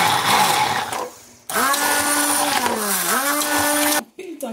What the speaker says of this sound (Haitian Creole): Ça, c'est un petit blender à main.